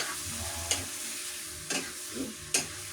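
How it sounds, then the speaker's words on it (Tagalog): Eggs with bitter gourd (ampalaya) sizzling in a pan, a soft steady fry broken by three or four distinct scraping strokes of a utensil stirring, with no talking. "Dalawang itlog po yung ating lalagay. Yun. Tapos ito po ay ating halo-haloin."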